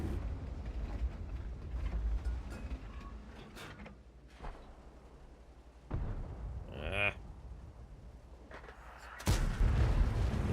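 Tank gun fire in World of Tanks from the Iron Arnie, a tier 8 premium tank: several booming shots with mechanical creaks and clanks between them, the loudest blast near the end. Faint voices sit beneath.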